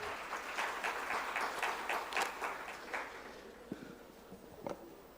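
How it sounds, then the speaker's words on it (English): Applause at an NPS Diwas 2025 event rises briefly for the welcome address speaker, then thins out into a few scattered, distinct claps, faint and distant in a large hall. "Please give a huge round of applause to Shri S."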